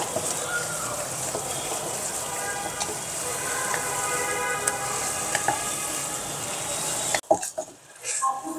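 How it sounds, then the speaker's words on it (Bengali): Egg stirred and frying in a pan while cooking Noakhali-style loitta shutki bhorta, a steady soft sizzle running throughout at close range, ending with a few brief clatters. "একটু ডিমটা দেওয়ার পর একটু অনবরত নাড়তে হবে"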